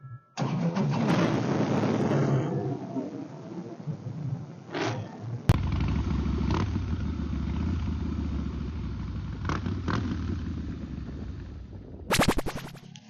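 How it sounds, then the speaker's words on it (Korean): A Harley-Davidson Breakout cruiser with a Vance & Hines aftermarket muffler starts up and idles loudly nearby with a deep, steady rumble, then gives a sharp rev near the end. "이게 반스 머플러 튜닝이 돼 있어가지고 대기 중에 좀 많이 시끄럽거든"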